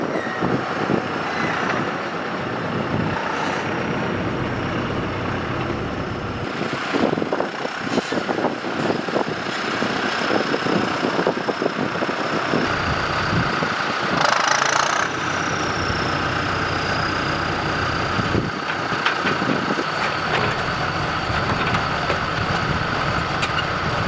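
A tractor engine runs steadily at close range, a continuous mechanical drone with occasional shifts in load and a brief louder surge midway, no voices over it.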